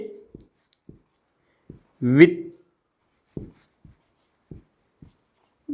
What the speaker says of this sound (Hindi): ये मैं आपको यहां पर लिख देता हूं